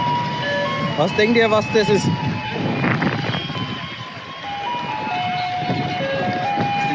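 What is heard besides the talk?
garbage truck playing music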